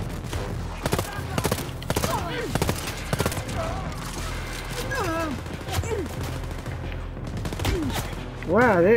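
Gunfire in the shooter Wolfenstein: Youngblood, dense rapid volleys of shots crackling close by, with players talking over the shooting and a rising swell of noise toward the end.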